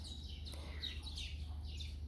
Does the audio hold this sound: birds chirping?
yes